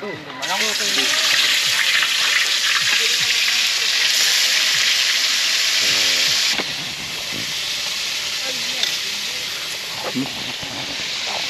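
Loud, steady sizzle of lapu-lapu fish frying, with a hissing, spitting texture that drops suddenly in intensity partway through, people talking faintly underneath.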